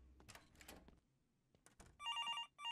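Telephone ringing in a video game, two short bursts of bright electronic trilling rings after some faint rustling and thumps, close and clear.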